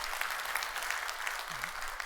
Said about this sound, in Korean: 다시 한번 우리 바나바들 축복하시고 박수해 주시기 바랍니다